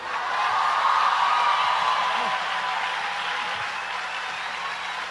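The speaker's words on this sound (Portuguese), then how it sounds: "Se é para aplaudir, aplaude tudo junto." A church audience applauds together steadily, a dense wash of clapping that holds throughout and slowly fades a little toward the end, with faint voices underneath.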